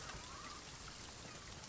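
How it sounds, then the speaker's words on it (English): Rain in the pirate game Sea of Thieves, a faint, steady hiss of falling drops with a soft watery trickle beneath, continuous and distant-sounding, without any voices. "As it's raining."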